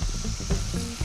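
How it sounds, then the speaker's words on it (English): Wine reducing with shallots in a hot pan, with a steady close sizzle and bubbling frying noise running the whole time and a slightly louder surge near the middle. "We're gonna add our Liberté wine and reduce that down to almost dry."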